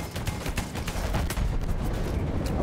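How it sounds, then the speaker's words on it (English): Rapid gunshots fired at point-blank range in a Battlefield 1 match, a rattling string of loud, close shots over heavy rumbling battle noise with no talking. "I'm shooting the guy point-blank range with me"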